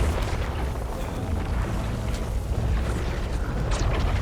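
Magic bombardment explosions in the video game Dragon Age: The Veilguard, a dense, loud, continuous rumbling roar of blasts with crackling bursts on top.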